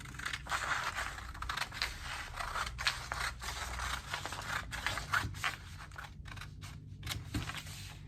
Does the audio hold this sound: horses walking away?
no